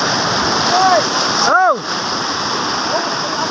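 Loud, continuous rushing and splashing of strong waves fills the clip, with a man's brief exclamation partway through.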